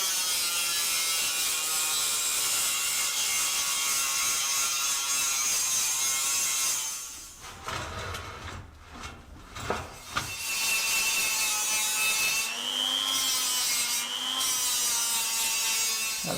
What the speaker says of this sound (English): What I'm using here is an 80 grit flat wheel.